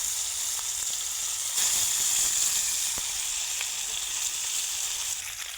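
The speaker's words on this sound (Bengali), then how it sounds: "তেলটা তেতে গেছে, মাছটা দিয়ে দিলাম। মাছটা ভাজবো," Pieces of silver carp fry in hot mustard oil in a kadai, giving a steady, close, loud sizzle with faint crackles and no talking.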